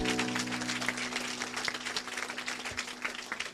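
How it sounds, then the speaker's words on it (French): A church congregation clapping and acclaiming the Lord, a dense sustained round of applause with a steady organ or keyboard chord held underneath. "On acclame le Seigneur."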